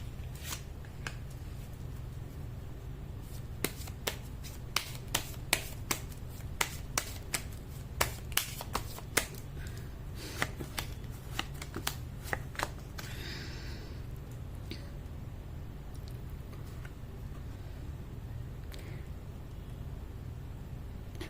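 Indian tarot cards being shuffled by hand make a run of sharp, quick riffling clicks and snaps, close and clear over a quiet room hum, before fading to near silence.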